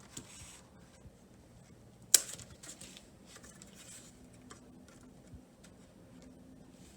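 Quiet handwork on basket lashing, with one crisp snip as the loose ends are trimmed off, surrounded by faint light rustling and small ticks.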